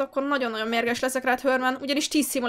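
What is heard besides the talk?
None of the usual background noises is heard.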